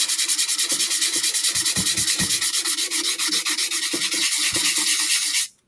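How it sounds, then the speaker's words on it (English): Wooden project being dry-sanded by hand with 220 grit sandpaper before finishing: close, loud, rhythmic rasping strokes in an even back-and-forth pattern that stop abruptly at the end. "I'm going to go ahead and keep sanding it dry"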